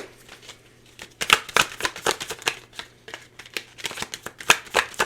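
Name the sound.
shuffling tarot cards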